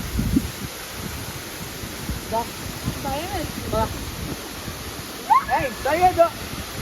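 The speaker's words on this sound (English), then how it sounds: "Here's the waterfall." Waterfall at the confluence of two rivers in Bhutan, a steady broad rushing roar at moderate distance, with people talking over it at intervals.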